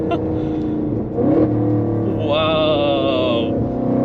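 A tuned Audi RS6 Stage 2 with a Milltek exhaust, about 750 hp, pulls hard under steady engine roar. A rising whine climbs over it midway through, heard from inside the car.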